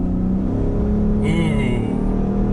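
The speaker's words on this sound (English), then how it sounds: "I'm going to put my foot to the floor and feel the power" A 2023 Ford F-150 PowerBoost Hybrid Limited pulls hard under full throttle, a steady loud engine drone with a rising whine near the middle, heard from inside the cab without talk.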